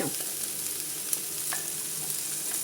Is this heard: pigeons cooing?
no